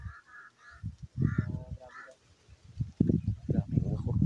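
Several crows caw in short repeated bursts at a distance, while someone talks nearby and over the calls.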